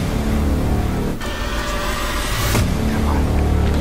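Car engine running steadily, a loud continuous motor drone with a brief dip and a rising surge, heard close by.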